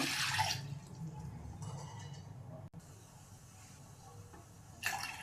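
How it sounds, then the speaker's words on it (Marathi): Water poured into a cooking pan to make sugar syrup for laddu, a splashy gush at the start, then a quiet stretch of faint trickling and another short splash at the end. "1 ग्लास पाणी घालणार आहे फक्त"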